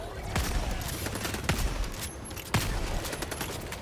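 Rapid gunfire from the Helldivers video game runs throughout, a dense fusillade with sharp louder shots standing out at a few points, fairly close and steady.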